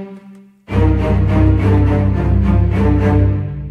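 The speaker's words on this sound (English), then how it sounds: "And so low strings sound like this" Deep bowed strings sustain a low, thick, somewhat muddy chord with a pulsing rhythmic texture, entering after a brief quiet lead-in and holding steady.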